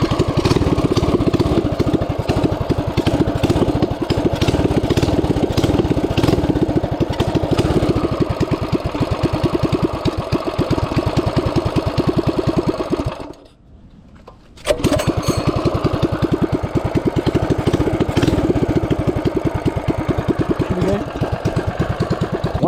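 A Coleman 200 UEX minibike engine fires up cold and settles into a steady, loud, close idle that runs continuously, briefly dropping away for about a second before roaring back.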